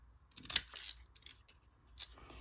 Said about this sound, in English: then I will take my stamp scissors